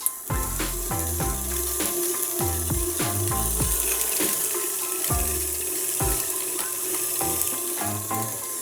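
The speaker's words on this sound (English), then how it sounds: "we are going to throw this into our mixer" An electric mixer beats ingredients for banana pudding in a home kitchen, with a steady motor whine and a rhythmic thumping churn as the beaters work through the batter.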